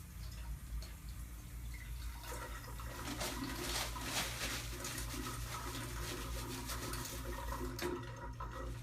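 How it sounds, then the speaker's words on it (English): Hands being washed at a sink in a clinic exam room under running tap water, a steady close splashing stream that continues throughout with no talking. "Let me just wash my hands real quick."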